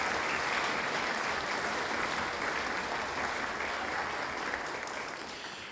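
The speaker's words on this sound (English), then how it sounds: "let's have a round of applause for all of our donors" A concert audience breaks into sustained, dense applause for donors, a steady wash of many hands clapping at once that holds level before starting to fade toward the end.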